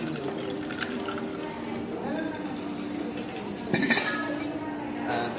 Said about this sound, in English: we're going to lift the ice to mix the soda in so it's busy